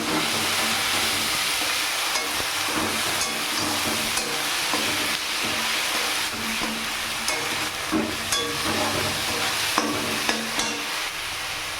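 Koi fish fry in mustard oil for a koi tel dish, producing a loud continuous sizzle with occasional spattering pops and clinks from stirring, and no voices.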